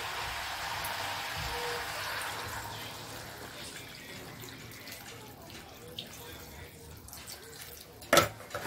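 Water poured into a spice mix for a cauliflower (gobi masala) curry. A steady, fairly close rushing hiss fades gradually, and a sharp clink comes near the end.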